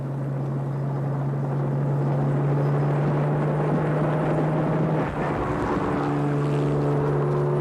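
A helicopter engine and rotor drone on steadily and loud, a constant humming roar with a strong low tone that fills the whole stretch, with no voices over it.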